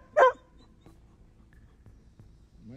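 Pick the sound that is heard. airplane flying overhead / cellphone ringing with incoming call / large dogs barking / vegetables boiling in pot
large dogs barking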